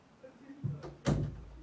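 A door pushed shut indoors, a soft thud near the start followed by a louder closing bump about a second in, with faint low voices in the room.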